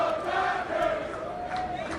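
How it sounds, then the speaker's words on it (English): A loud, angry Philadelphia baseball crowd at a Phillies game against the Dodgers roars in a steady, dense wash of massed voices throughout, with no single speaker standing out. "And this Philly crowd is pissed."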